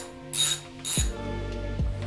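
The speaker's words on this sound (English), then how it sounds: "Take out the bottom bolt" A hand ratchet loosening a bolt on a BMW E30 during a throttle position sensor install: two quick, close bursts of rapid pawl clicking, each ending in a thunk.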